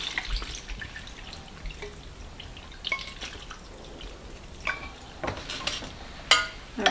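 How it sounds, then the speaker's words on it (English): Cooking liquid for birria is poured into a blender, giving irregular splashes, trickles and drips over a soft background, with a few sharper clinks near the end and no talking. "let me pour a little bit of the liquid in"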